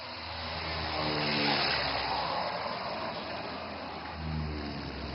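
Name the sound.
AN-32 transport aircraft touching down on a highway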